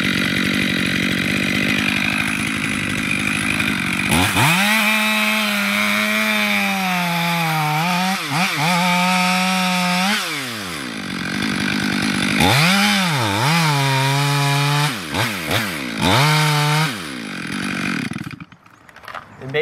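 A chainsaw plunge-cuts into a large tree trunk, loud and close, its engine revving up and bogging down repeatedly as the bar bites into the wood, with an idle stretch before the cuts.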